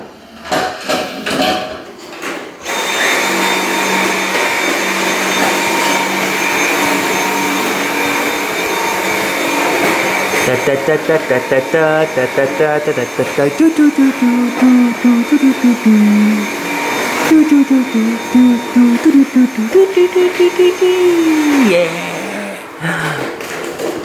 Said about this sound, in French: c'est l'aspirateur qui prend toute l'attention.